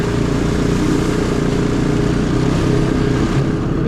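Honda Recon 250 ATV engine pulling steadily through slushy melting snow in second gear, a loud continuous droning growl heard from up close with no break and no talking.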